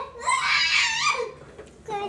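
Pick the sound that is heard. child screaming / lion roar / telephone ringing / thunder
child screaming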